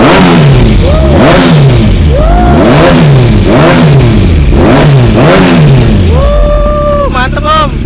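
A modified Kawasaki ZX6R motorcycle engine revs hard and loud, several sharp rising and falling blips in a quick rhythm, then a long high scream and a fast burst of revs near the end.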